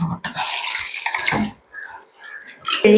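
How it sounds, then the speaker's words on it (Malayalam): Warm water sloshes and splashes close by as a towel is dipped and moved about, followed by softer drips and a brief clatter. "നമ്മൾ ഇതിലിങ്ങനെ തോർത്ത് മുക്കുക"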